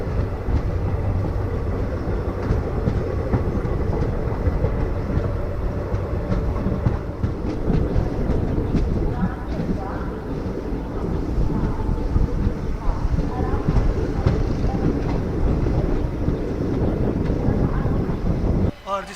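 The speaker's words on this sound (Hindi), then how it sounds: "Train is arriving at Beaver railway station." Ranikhet Corbett Park Link Express pulling into Beawar railway station in India: a continuous loud rumble of rolling wagons with faint clickety-clack and wind buffeting, steady throughout.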